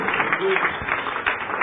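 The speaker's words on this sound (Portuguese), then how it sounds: "vamos aplaudir mais ao nome do Senhor Jesus" A church congregation applauds during a Portuguese-language sermon, a steady dense wash of clapping that fills the whole stretch with a few louder bursts, with voices mixed in.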